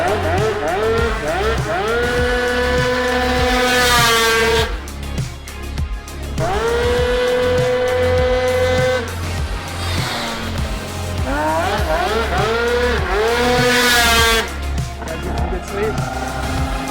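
Small motorbike engine with a raspy, Banshee-like tone, revving hard in repeated rising and falling sweeps, loud and close, with voices talking under it.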